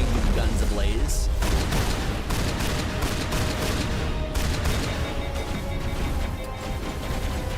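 Rapid gunfire in the sci-fi shooter Mass Effect, a dense, continuous barrage of loud shots and impacts filling the whole stretch, with a voice talking over the combat.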